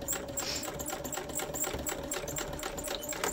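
Sewing machine stitching a seam on 18th-century fall front trousers, a rapid, steady mechanical clatter of needle strokes running continuously at moderate volume with no voice over it.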